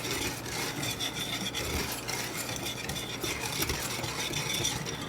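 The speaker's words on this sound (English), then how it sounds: "we're going to mix this together really well" Corn pudding ingredients seasoned with salt and pepper being stirred together in a bowl, a steady scraping, rubbing sound that runs continuously and close by with no talking.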